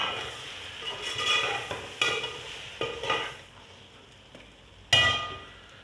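Okra and green chillies are stirred into masala in a pan with a soft frying sizzle, broken by several sharp spoon clanks and scrapes against the metal, close by and with no talking.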